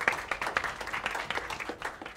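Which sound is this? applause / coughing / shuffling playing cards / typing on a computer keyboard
applause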